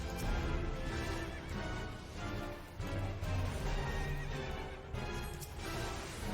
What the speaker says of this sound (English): that's a pony, that's a flying horse